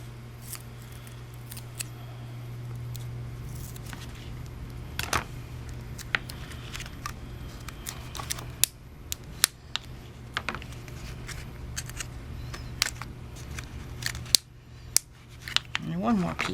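Scissors snip pieces of double-sided duct tape, giving scattered sharp, faint cuts and tape crackle over a steady low hum, with quiet handling noise in between.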